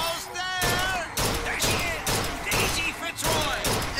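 Rapid bursts of gunfire in the video game Bioshock Infinite, repeated loud volleys in quick rhythm, with a voice talking over the shots.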